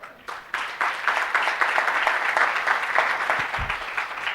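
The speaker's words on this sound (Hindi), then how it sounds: "पहले तो सभा के लिए जोरदार तालियां।" An audience at a lecture session breaks into hearty applause, a brief quiet lead-in followed by a sustained, fairly loud rattle of many hands clapping that stays even before tapering slightly near the end.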